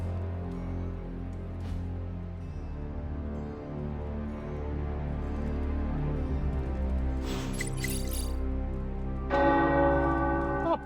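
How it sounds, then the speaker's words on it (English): Tower bells ring in Marvel's Midnight Suns, deep sustained church-bell tones layering and overlapping, with a brighter clanging peal building near the end. "The tower bells are ringing."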